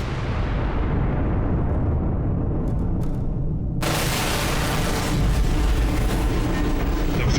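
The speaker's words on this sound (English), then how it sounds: "Explosions." Explosions during an attack on Kyiv, a loud, continuous low roar and rumble with a sudden broad surge of blast noise midway that stays heavy and dense to the end, no voices.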